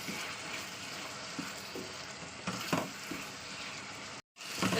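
Ridge gourd and spices sautéing in hot oil in a home kitchen, a steady close sizzle with faint scraping stirs throughout, briefly cutting out near the end.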